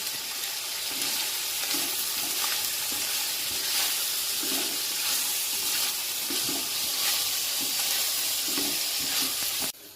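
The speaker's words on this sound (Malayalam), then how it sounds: "നന്നായി ഇളക്കുക." Onions fry in a pan while being stirred, a constant hissing sizzle with regular soft scraping strokes of the spoon, close by, and no speech.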